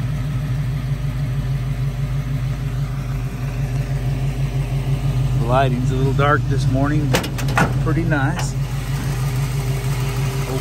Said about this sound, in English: this old LT1's out of a Corvette's been in this car for 20 years and still purrs like a kitten